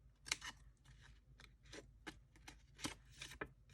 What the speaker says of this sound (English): and cut your little flaps out.